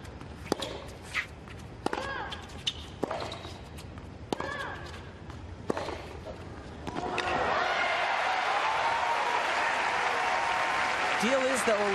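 Tennis crowd at a women's match bursts into sustained applause and cheering, a dense roar that swells after a few sharp ball strikes and court sounds with voices over it.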